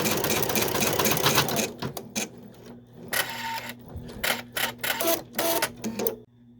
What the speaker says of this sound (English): So we're going to start the machine here. It's going to run a stitch down just like an applique.